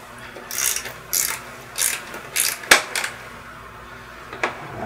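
A ratchet turns to loosen a bolt on a Fox Nude rear shock of a Scott Spark RC bike, giving about seven short, close clicking bursts at a steady, slightly uneven pace, with no talking.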